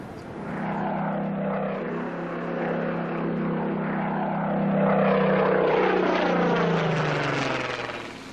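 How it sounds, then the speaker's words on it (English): A Supermarine Spitfire with a Rolls-Royce engine passes overhead, its propeller drone swelling and then falling in pitch as it moves away, loud and sustained, with no speech. "this Supermarine Spitfire was ready for today's historic flight"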